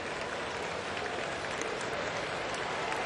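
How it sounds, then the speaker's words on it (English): Crowd at a Mariners baseball game clapping in a stadium, a dense sustained wash of applause from many hands, steady and fairly loud for the whole stretch. "there's quite a few people in here that were clapping"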